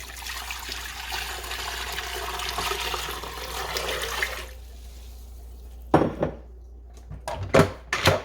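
Lukewarm water pours into a pressure canner, a steady rushing splash for about four and a half seconds that stops, followed by a few sharp clunks and knocks.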